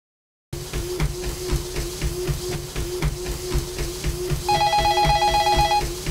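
Office telephone ringing, a loud electronic warble that repeats in a rapid, steady pattern, with a higher tone layered in near the end.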